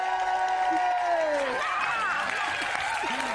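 Studio audience applauding and cheering as a guest comes on stage, dense clapping under a sustained shouted voice and crowd noise.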